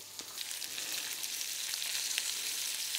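Onions fry in a pan, giving a steady, close, bright sizzle with faint crackles and no voices.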